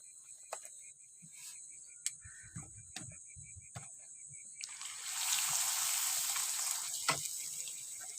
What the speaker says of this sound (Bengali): আমি আবারও তেলে দিয়ে দিচ্ছি।